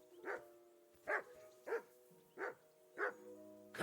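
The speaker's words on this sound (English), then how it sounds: "Jesus, Henry, that barking's driving me nuts." A dog barks in the video game Kingdom Come Deliverance 2, five evenly spaced barks at moderate loudness over a low, steady ambient backdrop with no talk.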